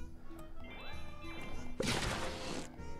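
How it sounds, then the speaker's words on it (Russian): An explosion bursts in Plants vs. Zombies 2, a sudden crashing blast midway through amid busy game sounds, fairly loud and decaying over about a second. "Давай сюда взрыв."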